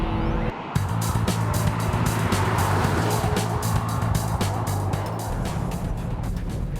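Volvo V40 R-Design in performance mode lapping the high-speed bowl, a loud continuous engine drone with steady road and wind roar from inside the car, holding throughout after a brief gap at the start.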